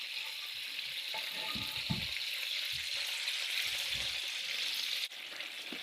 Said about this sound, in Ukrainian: Смажимо зі всіх сторін на середньому вогні до золотавої скоринки.